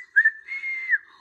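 One drawn-out whistle signal from a children's TV show, a short rising note flowing into a sustained steady tone that dips at the end, clear and close with no voices.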